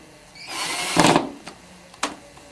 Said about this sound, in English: The next step after installing the cams is to put the connecting bolts into the panels. They simply screw in place in the pre-drilled hole.